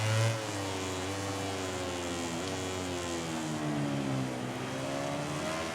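A MotoGP motorcycle engine in the racing game MotoGP 18 holds a steady, high buzzing drone. Its pitch sweeps slightly down and back up as the bike powers out of the final corner.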